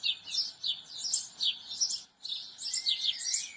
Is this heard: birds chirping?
yes